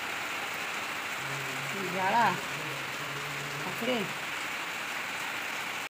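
Heavy rain pours down in a constant, dense hiss, with a voice speaking briefly over it.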